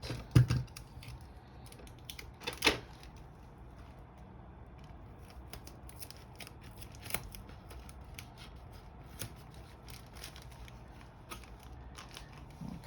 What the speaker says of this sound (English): I'm going to put some tape in the front here